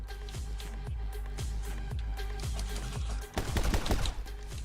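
Rapid gunfire from the My Friend Pedro action game on Switch: a steady stream of quick shots with rhythmic low thumps beneath, swelling into a louder, denser burst near the end, no talk.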